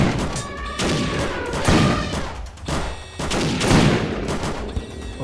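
Rapid bursts of M16 rifle fire in the chaotic battle game Animal Revolt Battle Simulator, several loud volleys crackling one after another with thuds and booms mixed in, without talk.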